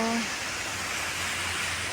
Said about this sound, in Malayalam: ഇവിടെ നല്ല മഴയുണ്ട്. നിങ്ങളുടെ ഇവിടെയൊക്കെ മഴയുണ്ടോ?